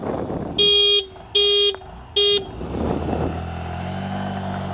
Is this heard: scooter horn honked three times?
yes